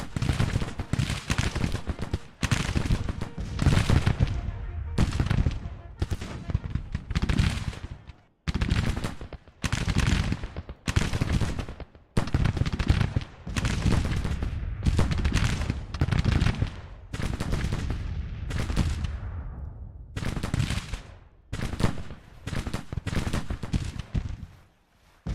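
Musket volleys crash in the Civil War strategy game Grand Tactician: The Civil War. Loud, dense bursts of rolling gunfire come again and again with brief gaps between them.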